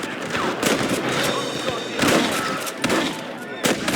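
Gunfire in the Western video game Red Dead Redemption, with sharp, loud shots and bursts scattered across the clip under shouted game-character dialogue.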